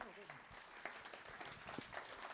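Conference audience in a hall breaking into applause, a broad wash of clapping that holds steady throughout with some voices audible underneath.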